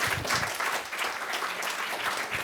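An audience breaks into applause at a talk, with dense, continuous clapping from many hands, moderately loud and sustained throughout.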